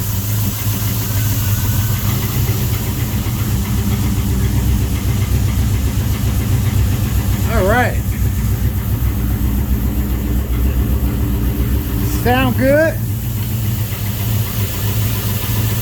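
A shop truck's engine idles with a steady, loud, low mechanical drone that continues unbroken, while someone speaks briefly over it now and then.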